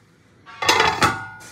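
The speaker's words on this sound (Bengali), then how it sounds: "এবার ঢাকা দিয়ে আমি ঝোলটাকে একটু ফুটতে দেবো।" A metal lid set down on a pot of simmering fish curry makes two close clanks with a short ringing rattle, while faint bubbling sits beneath.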